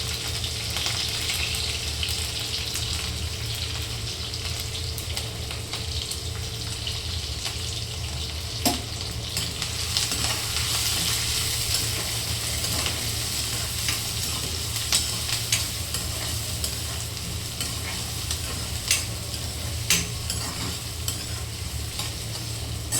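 Curry leaves and green chillies fry in hot oil over onions, making a steady, loud sizzle with a few sharp crackles and pops that continue without a break. Nobody speaks.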